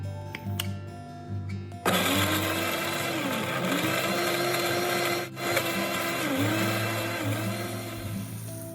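A blender grinds garlic, onion, pear and ginger together for kimchi. After a short quiet start, a loud, steady motor whir and churning runs without a break, and its pitch dips and rises as the contents shift.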